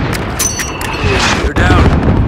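Enemy gunfire in Call of Duty: Modern Warfare rattles in dense, loud bursts with booming impacts over a constant roar of battle, close and unrelenting.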